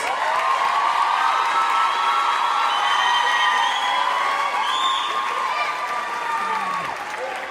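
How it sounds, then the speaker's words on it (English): A graduation ceremony crowd applauds and cheers in a dense, loud, sustained roar of clapping with whoops and shouts, fading slightly toward the end. "I think these achievements deserve a special round of applause."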